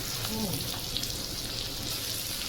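Onion sizzles while sautéing in a pan, making a dense, steady frying hiss close by. A faint voice can be heard briefly near the start.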